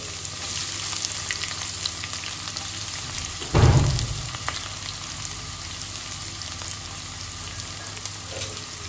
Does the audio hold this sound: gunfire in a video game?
no